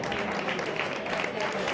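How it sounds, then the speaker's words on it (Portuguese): A crowd applauds the candidates at a carnival contest, steady clapping with crowd noise and voices mixed in throughout the short moment. "eu acho que temos que dar um grande aplauso a todas elas"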